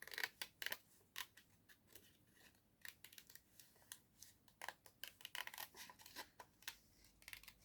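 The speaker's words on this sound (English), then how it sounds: "Keep your scissors still, move your paper." Small scissors fussy-cutting book pages in quick, uneven bursts of close, crisp cuts, with soft rustling between them and no talking.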